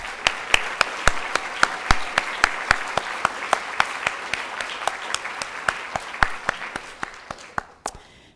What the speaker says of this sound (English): I want to give them a great round of applause as well